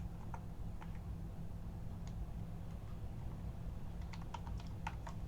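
Keys clatter on a computer keyboard as code is typed, with scattered soft clicks in short bursts over a low steady hum, growing busier toward the end.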